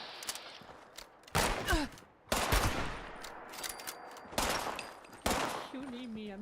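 Several loud bursts of rapid automatic gunfire in the Fallout 76 video game, separated by brief quieter gaps with footsteps and movement between them.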